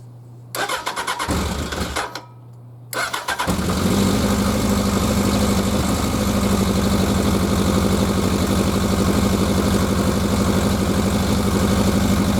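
Engine of a 1100G motorcycle cranking with the choke on, catching after two short bursts, then settling into a loud, steady, rich-running idle close to the microphone.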